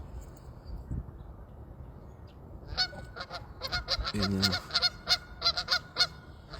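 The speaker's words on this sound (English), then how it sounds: "Look, geese. Where are you? Sit down. Canada geese." Canada geese honk in a rapid, irregular series from about three seconds on, loud and fairly close, over faint background hiss and a brief low rumble.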